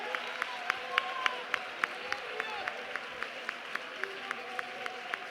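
A church congregation at a Pentecostal prayer crusade claps in steady, rhythmic unison, the sharp evenly spaced claps ringing out over a low background hum and voices.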